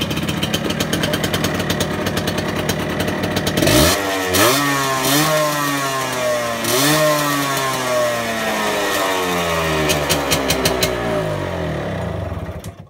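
A 1974 Yamaha RS100 motorcycle engine runs close by, idling roughly and then revving up and down in repeated rising and falling sweeps with a sharp, buzzy two-stroke rasp throughout.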